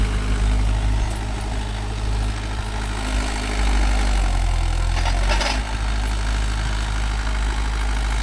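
A Mahindra 575 DI diesel tractor engine runs steadily nearby, a loud, deep, continuous rumble that shifts slightly in load midway, with no voices over it.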